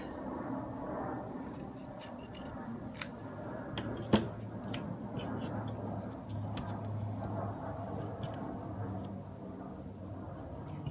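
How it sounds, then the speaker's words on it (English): Scissors cut a paper artisan label in half for a Christmas tag, a few crisp snips and paper rustles close by in a quiet room, with one sharper click partway through. "And then I'm going to cut one in half."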